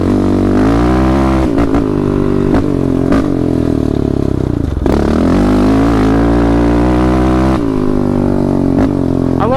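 A Yamaha Raptor 700 ATV fitted with a Vortex ECU accelerates on a trail, its engine loud and close, rising and falling through the rev range with short shifts and dips in pitch.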